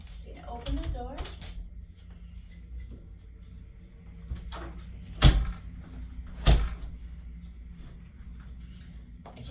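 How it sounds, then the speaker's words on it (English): A door is opened and then closed, with a couple of sharp thuds and latch clicks and some soft rattling between them, heard close up with a person speaking around the sounds. "Alright, so I'm just going to open the door."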